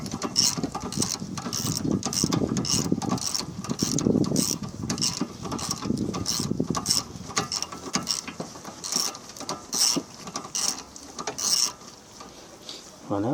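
A ratchet tightens brake caliper bolts during a rear wheel bearing replacement, giving a steady series of close, regular clicks that slow and thin out toward the end.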